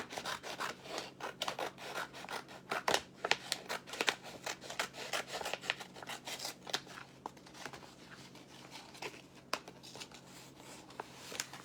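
Plastic wrap cut with scissors, close and fairly quiet, with a run of snipping, rubbing and rustling that grows sparser toward the end, with no talking.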